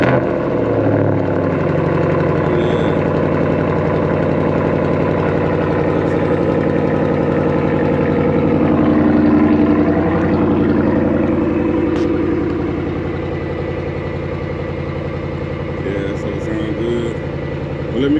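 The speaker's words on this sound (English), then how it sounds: "Let me get y'all a cold start on here." A 1983 Chevy C-10 pickup's engine cold-starting and settling into a steady, loud, close rumbling idle for the full stretch, with someone talking over it at points.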